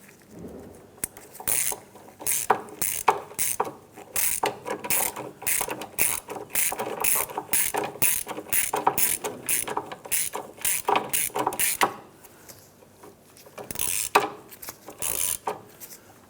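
A ratchet snugs down bolts while a crankshaft position sensor is replaced on a 1997-2006 Jeep Wrangler, with long runs of rapid, close clicking strokes broken by brief pauses.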